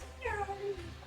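A house cat lets out a single drawn-out meow that rises and then falls, close and fairly clear against quiet room tone.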